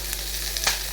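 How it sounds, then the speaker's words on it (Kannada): Masala with tomato frying in a pan for chicken keema gravy, a steady close sizzle with one brief louder spatter, no talking. "ಆಮೇಲೆ ಇಲ್ಲಿ ಟೊಮೆಟೊ ಕೂಡ ಹಾಕಿ ಚೆನ್ನಾಗಿ ಫ್ರೈ ಮಾಡಬೇಕು."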